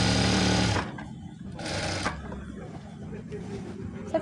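Two short bursts of a sewing machine stitching fabric, a longer burst at the start and a brief one a moment later, close and loud, with someone talking around them.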